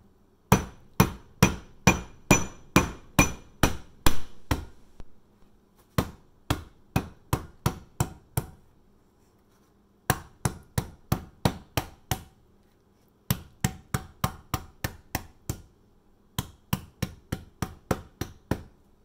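A rolling pin smashes cucumbers on a kitchen surface with sharp, rapid whacks in several bursts of about a dozen hits each, separated by short pauses, close and loud with no talking.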